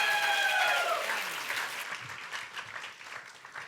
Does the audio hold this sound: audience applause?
yes